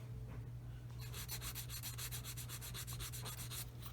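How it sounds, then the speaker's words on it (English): A plastic part for an Eduard 1/48 Bf 109E-3 model is sanded with fine abrasive, giving a close, steady run of quick rhythmic rasping strokes that starts after a brief pause, over a constant low hum. "And I just sand it,"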